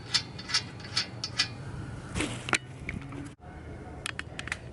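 A ratchet wrench driving wheel spacer bolts on a Lexus IS 250: several quick bursts of rapid clicking pawl ticks, close and crisp, with a brief clunk in the middle and more clicks near the end.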